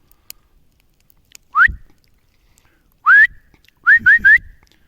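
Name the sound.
person whistling at a deer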